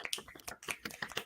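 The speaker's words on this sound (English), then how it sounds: "I was just snapping because I'm here" Several quick finger snaps from an audience at a poetry night, scattered in a loose, uneven rhythm, fairly close and soft, with no talking over them.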